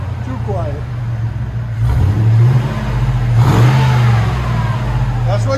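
A 2005 Cadillac Escalade 6.0L V8 fitted with a Dynomax Super Turbo muffler rumbles at idle, then swells through two brief revs, with a deep, steady exhaust drone up close.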